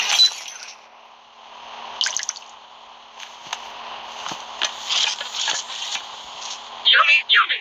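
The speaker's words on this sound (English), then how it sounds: "another glass jar. Let's break it." A glass jar smashes in the horror video game Ice Scream 6, with clinking and shattering hits and scattered fragments, close and fairly loud, mixed with other game effects.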